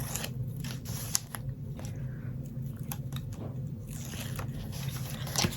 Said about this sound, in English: start with taking the tape off of this page